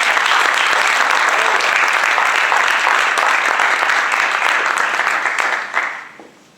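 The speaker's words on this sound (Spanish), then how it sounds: "un aplauso para nuestros compañeros" Dense, loud audience applause for a history talk about the Goths, many people clapping together in a sustained roar that holds steady for about six seconds before tapering off at the end.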